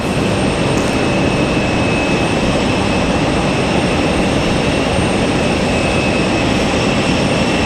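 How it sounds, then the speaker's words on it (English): An American Airlines jet leaves Raleigh-Durham International Airport in stormy weather, with a loud, steady, broadband engine roar that fills the whole stretch. A faint high whine sits on top, and no one speaks. "looks like we got American Airlines getting out of here"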